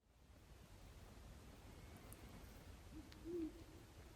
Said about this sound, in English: I don't want to scare away the great horned owl that's just out here.